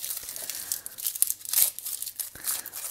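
Ferrero Rocher candies folded in baking paper and struck with a meat mallet: crisp paper crinkling and rustling throughout, with a couple of dull thumps, close and fairly quiet.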